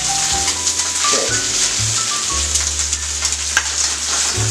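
Egg fried rice fries and sizzles in a pan with a loud, constant crackling hiss, with occasional pops and stirring scrapes, while background music plays.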